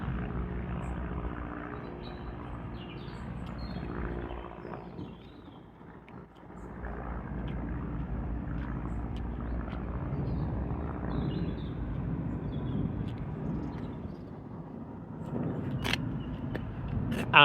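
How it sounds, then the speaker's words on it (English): An aeroplane passes overhead near a railway overbridge, heard as a steady broad low rumble that swells and lingers across the whole stretch, with a brief dip midway and no talk. "Okay, past now is an aeroplane"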